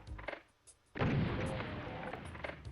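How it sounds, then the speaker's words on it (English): Barrels exploding in Doom 2, a sharp, loud blast after a brief quiet stretch, then a rumbling tail with scattered game sounds. A monster's dying cry may sit within the noise. "You explode some barrels, you hear a monster cry out, playing its dying sound."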